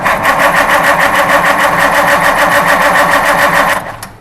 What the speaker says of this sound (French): je fais tourner le moteur, si la batterie n'est pas trop fatiguée